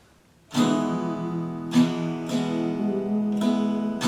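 An acoustic guitar strums full chords, a few downstrokes spaced about a second apart, ringing out between strums, close and alone.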